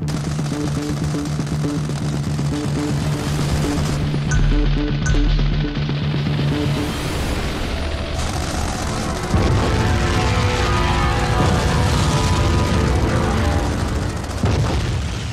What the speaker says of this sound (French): rajoutant des explosions, rajoutant des tirs